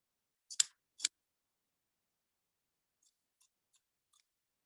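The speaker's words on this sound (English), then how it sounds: "If I can get my scissors in there." Scissors trim the fabric facing at a dress neckline, two crisp close snips followed by a few much fainter clicks in an otherwise quiet room.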